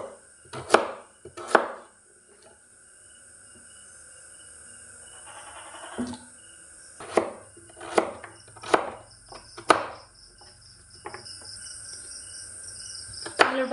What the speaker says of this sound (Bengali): আলুগুলোকে আমি এই সাইজের করতেছি